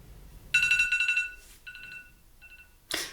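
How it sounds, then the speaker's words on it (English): A phone alarm ringtone plays a bright, repeating beeping melody in short bursts, loud and close, then cuts off with a brief rustle at the end. "you're using your phone as your alarm clock."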